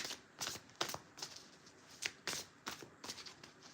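An angel oracle card deck is shuffled by hand close up, a quick series of crisp riffling and slapping bursts in an uneven rhythm, quiet overall with no voices.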